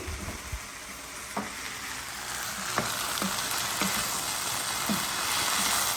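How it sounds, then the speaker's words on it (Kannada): Ginger garlic paste fries in a pan with a steady, even sizzle, broken by a few faint taps of a stirring spoon against the pan. "ಜಿಂಜರ್ ಗಾರ್ಲಿಕ್ ಪೇಸ್ಟ್ ಹಾಕೋಣ ಸ್ವಲ್ಪ ಹೊತ್ತು ಫ್ರೈ ಮಾಡಿ"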